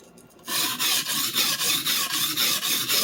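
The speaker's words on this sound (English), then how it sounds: "Whichever section of the knife you're sharpening, you can kind of keep it moving around on different parts of the stone." A knife is sharpened on a sharpening stone in close, steady rasping strokes, about ten even rubs in a regular rhythm after a short quiet start, with no talking.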